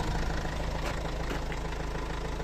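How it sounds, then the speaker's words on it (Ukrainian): Renault diesel engine idling steadily, a continuous low rumble with faint regular knocking, close and even with no voices. "ми маємо Рено, дізельний двигун"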